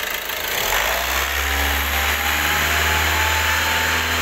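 A car engine starts up and then runs with steady throttle while being pressure tested, a loud, sustained mechanical drone with a low hum throughout.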